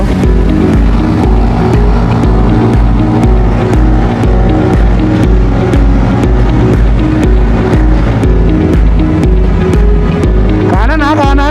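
A motorcycle labours up a winding road, its engine droning loud and strained with a steady throbbing pulse, close by and continuous, with a faint wavering tone near the end.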